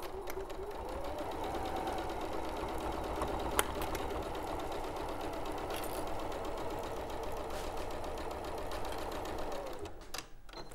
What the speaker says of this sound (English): And then we'll just sew along this one.